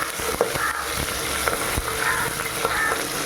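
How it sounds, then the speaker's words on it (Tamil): Shallots and green chillies frying in a pan give off a steady crackling sizzle, with occasional soft knocks and scrapes as they are moved about. "இதோட சின்ன வெங்காயம், 4 பச்சை மிளகாய் எடுத்து வச்சுருக்கிறேன். நல்லா செவந்து வரணும்."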